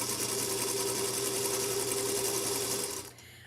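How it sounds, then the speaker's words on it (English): A sewing machine runs a quarter-inch seam with a fast, even mechanical whir, close and fairly quiet, and then stops abruptly near the end. "So I'm going to go down and sew a 1/4 inch seam on all 3 sides, leaving my short side open"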